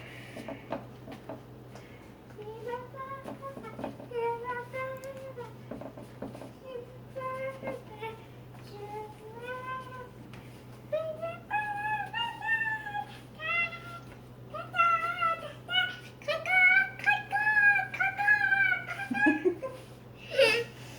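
A small child's high, wavering singing drifts in from the background, faint and intermittent, growing a bit louder toward the end over a steady low hum.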